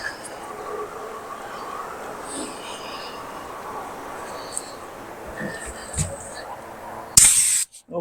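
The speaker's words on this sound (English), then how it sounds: "get accustomed to the old spray can." An aerosol can sprays paint onto a D150 truck bed, giving a steady low hiss through most of the clip that ends in a brief, loud, sharp spray burst near the end, close by and with no talk.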